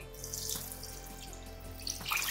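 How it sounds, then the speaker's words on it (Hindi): Two cups of water pour steadily into a pot of rice for a Jain chole pulav, a continuous close splashing stream over a low steady hum, with no speech. "अब हमने 1 कप चावल लिया है तो सामने 2 कप मैं पानी डाल दूंगी।"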